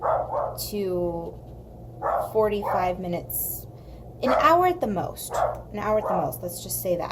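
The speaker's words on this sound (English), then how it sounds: "if you hear the beast barking" A dog gives several loud, nearby barks and yips in short bursts, mixed in with a person talking over them.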